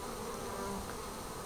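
Bees hum in a continuous, faint drone with no break and no voices.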